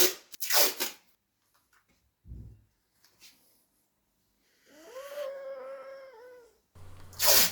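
A cat meows with a long, drawn-out call in a leatherworking workspace, close by, with scattered bumps and rustles of work around it.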